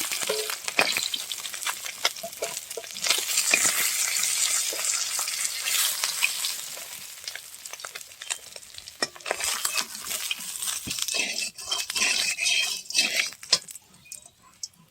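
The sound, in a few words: fish frying in oil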